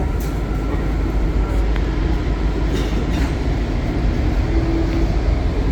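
A Washington Metro Yellow Line train bound for Mount Vernon Square rumbles steadily at close range, a continuous low roar with faint rail squeals and clatter throughout.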